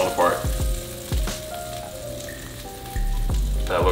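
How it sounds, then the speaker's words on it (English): Hogfish fillet sizzling and frying in a pan, a steady close crackle with a few sharp pops and stirring knocks, no talking. "you need to do is let your fish cook for like 2 minutes on each side"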